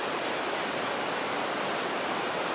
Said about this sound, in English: I've come to paint this beautiful little waterfall.